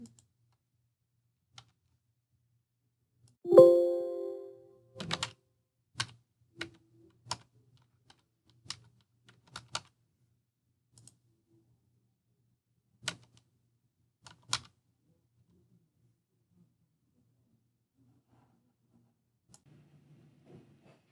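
Keystrokes on a computer keyboard while credit card details are entered, sparse single clicks spread unevenly over about twenty seconds in a quiet room, with one louder thump early on.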